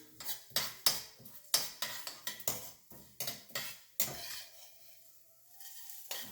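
Urad dal sauteing in a pan for curry leaves powder, with rapid metal spoon scrapes and clinks against the pan in a busy stirring rhythm, then a soft sizzle left alone as the stirring stops.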